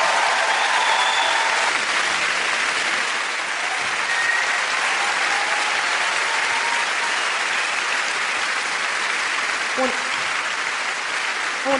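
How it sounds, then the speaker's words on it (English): A theater audience applauding four people wearing Muppet socks, a dense, sustained wash of clapping from a large crowd with a few faint voices mixed in. "ladies and gentlemen, a round of applause for them"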